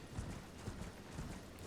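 Horse hooves clip-clop in a steady trotting rhythm while riding across open ground in the video game Elden Ring, moderately quiet and steady with no talk over them.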